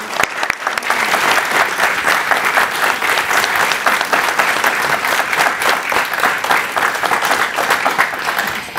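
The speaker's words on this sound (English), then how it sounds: "A round of applause for our students." Sustained audience applause at a teacher signing day event, a loud, dense, even clapping from a crowd that continues for the full stretch.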